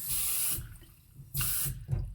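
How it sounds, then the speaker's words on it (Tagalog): Water runs in two broad pours into a container while making organic juice at home, each splash lasting about half a second with a brief quiet gap and a smaller trickle after, close and clear with no talking. "Ayan, lagyan na natin ng tubig."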